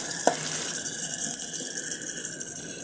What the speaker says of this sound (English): I then come in with my water for the sauce